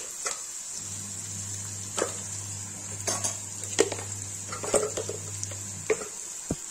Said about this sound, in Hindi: ये देखिए प्याज भून गया है और इसमें डालेंगे लाल मिर्च।